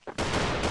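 Pistol gunfire in a competitive first-person shooter match, heard as a short burst of loud, close shots that begin abruptly after a brief quiet moment and continue densely to the end.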